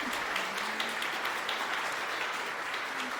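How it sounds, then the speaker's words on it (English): Audience round of applause at a farmers' showcase event, a steady even patter of many hands clapping, fairly distant and sustained throughout without a break. "Can we give a raucous round of applause"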